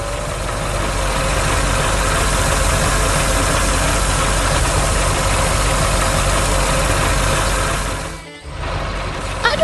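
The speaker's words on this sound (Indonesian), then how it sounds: "traktor biru sedang mengangkut trailer oranye di taman yang hijau" A blue tractor engine pulls an orange trailer through a green park in a farm cartoon, giving a loud, steady rumbling drone that dips briefly near the end.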